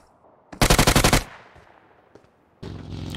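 Automatic gunfire from the mobile shooter BGMI: a rapid burst of about nine loud shots, a quiet gap with a faint distant pop, then another sustained burst starting near the end.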